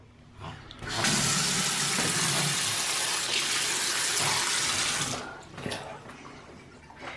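A tap runs steadily for about four seconds, a loud hiss of flowing water that cuts off, with quiet household noise around it.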